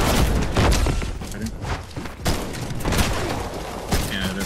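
Loud gunshots from the Fortnite video game, with sharp cracks and heavier booming hits arriving in irregular bursts, some close and punchy, others trailing off, amid dense game noise.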